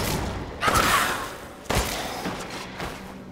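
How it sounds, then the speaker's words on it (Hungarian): Two heavy gunshots in the video game Resident Evil Village ring out about a second apart. Each blast has a sharp attack and a long reverberant tail, heard alone without talk. "Jó, öt lövés."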